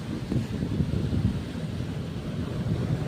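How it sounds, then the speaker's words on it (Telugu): A steady, heavy rush of water over the gates of Jeedipalli reservoir dam, a continuous low roar with a windy buffeting edge and no voices. "డ్యామ్లో నీళ్ళు ఎక్కువయ్యి బయటికి వెళ్ళిపోతున్నాయి"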